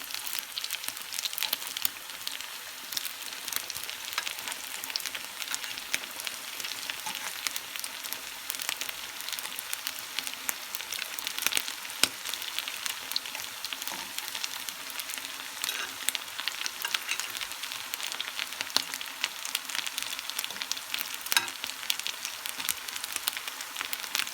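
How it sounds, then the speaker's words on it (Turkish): Steady, crackling sizzle of potato pastries frying in hot oil in a pan, continuous and close, with no talking. "patatesli böreklerimizin diğer taraflarında döndürüp kızartalım"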